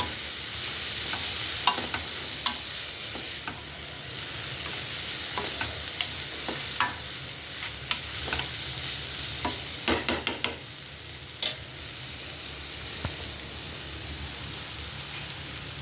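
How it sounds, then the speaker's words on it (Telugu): Egg fried rice is stirred in a pan after coriander and cumin powder go in, with a soft continuous sizzle and scattered sharp clicks of the spoon against the pan. "ధనియాల పౌడర్ వేసి బాగా కలుపుకోవాలి"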